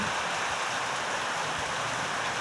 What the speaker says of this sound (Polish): Leje bardzo, na pewno troszkę gradu też